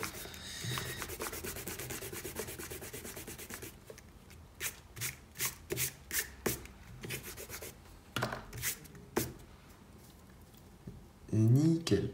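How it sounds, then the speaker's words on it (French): A black Faber-Castell plastic eraser rubs out pencil construction lines on paper, first as a steady scrubbing and then as short rhythmic strokes, close and quiet, with a voice briefly at the end. "on peut gommer nos traits de construction. Pour ça, j'utilise moi la gomme noire Faber-Castell plastique"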